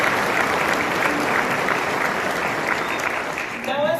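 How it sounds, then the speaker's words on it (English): Sustained applause from a dinner audience for a party's MLA team at a UCP leader's dinner keynote in Central Alberta, steady and dense throughout with a slight dip near the end. "please join me in giving a huge round of applause to our entire UCP MLA team"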